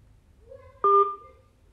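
Telephone dialing tones sound while a call is placed: a single loud, steady two-tone keypad beep that holds for about a quarter second, close and clear, with a faint low rumble underneath and no talk.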